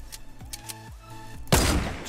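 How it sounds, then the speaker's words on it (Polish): Golden sniper rifle in a video game firing into a metal wall: a few sharp, separated shots, then a louder burst of impact noise near the end. "Snajperka złota w ścianę metalową."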